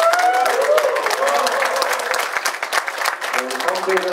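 Loud, dense applause fills a hall at a political party training event, steady and continuous throughout, with a voice briefly audible over the clapping near the start.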